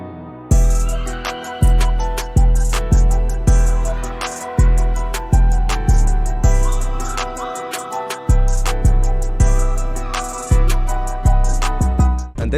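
A hip-hop beat with punchy kicks and snappy drum hits in a steady groove over sustained tones, the mix sounding muddy and unbalanced.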